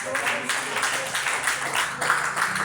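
A church congregation applauds during a sermon on the gospel, a soft, continuous wash of many hands clapping at moderate distance with no clear individual claps.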